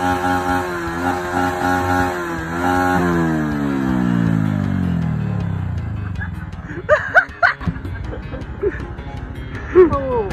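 A Honda Wave Alpha 110 motorcycle engine revs hard and holds at high revs, then its pitch sinks steadily as the throttle eases, followed by clattering and people talking nearby.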